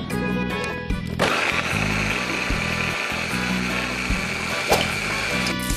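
A blender whirs steadily as it purées shallots, roasted candlenuts, bird's eye chilies, asam sunti and coconut milk for an Acehnese anchovy dish, the motor droning continuously with small pulses and shifts in pitch as the mixture churns.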